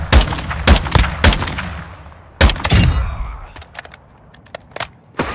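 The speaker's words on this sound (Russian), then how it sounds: "Они стреляют куда-то" In the shooter game Warzone DMZ, loud nearby gunshots crack out in irregular single shots and short bursts, each followed by a decaying echo, with fainter shots scattered in between.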